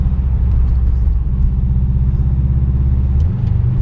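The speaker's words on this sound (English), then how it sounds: "You can hear turbocharger and slight dump when you're changing gear or coming off the throttle" Subaru Impreza turbo driving, a loud steady engine rumble from inside the car with a brief change near the end as the throttle lifts, with no talking.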